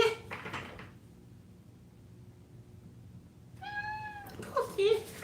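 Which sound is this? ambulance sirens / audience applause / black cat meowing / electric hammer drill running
black cat meowing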